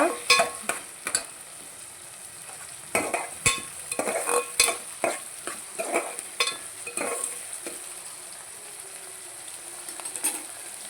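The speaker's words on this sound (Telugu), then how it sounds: "పచ్చిమిరకాయ ఉల్లిగడ్డ కలబెట్టేసుకుంటున్నాను మంచిగా ఇది వేగిద్దామండి మంచిగా" Green chillies and onions fry in a pan, the spatula clattering and scraping in uneven close strokes over a constant light sizzle.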